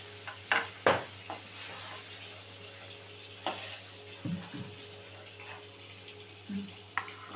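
Soft frying sizzle of paneer in a pan with a few sharp clinks and scrapes of a utensil scattered throughout, fairly quiet and close.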